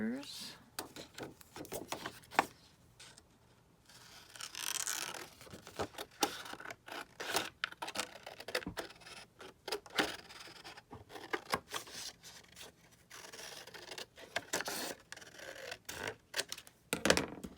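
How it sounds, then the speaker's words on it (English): Scissors snip through paper while a paper bag journal is being made, a quick run of crisp cuts close by, broken up by someone talking quietly over the work. "And then I take my scissors."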